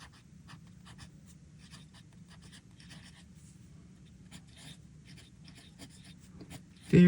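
Steady scratchy writing from a medium steel-nib Scrivener fountain pen laying down Deep Red Crimson ink, close and quiet, with soft rhythmic strokes and a brief louder bump at the very end.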